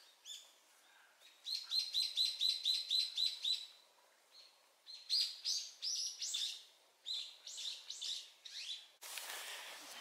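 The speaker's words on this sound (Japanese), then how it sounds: "ずっとの鳥のさえずりも聞けますしね。" Birds chirping and trilling on a mountain hiking trail in spring cherry-blossom season, a rapid repeated series of bright high notes followed by more varied calls, clear and fairly near, with no talking.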